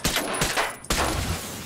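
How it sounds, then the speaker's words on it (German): Rapid pistol shots from a USP fired at drones in the video game Ghost Recon Breakpoint, a few sharp cracks in quick succession with no talking. "Gut zu wissen, dass man für die Drohnen 5 Schuss mit der Pistole braucht, mit der USP."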